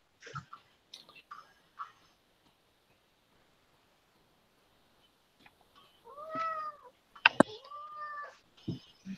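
A cat lets out a few drawn-out, rising and falling meows close by, clustered near the end after mostly quiet moments broken only by small knocks and rustles.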